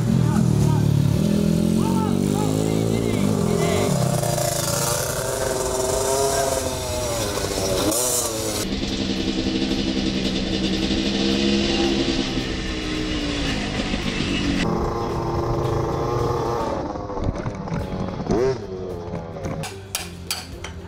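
A small dirt bike engine revs and whines up and down, its pitch rising and falling repeatedly, with people talking over it.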